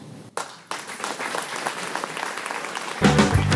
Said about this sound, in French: il mérite des applaudissements.